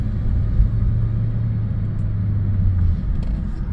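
A Ford EcoBoost engine with low fuel rail pressure bogs under hard throttle, a steady low rumble holding flat without building revs, close and continuous with no talking.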